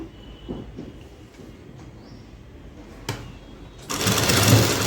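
A sewing machine stitching lace onto a dress runs in a loud continuous burst near the end, after a quieter stretch of small handling noises and a brief knock.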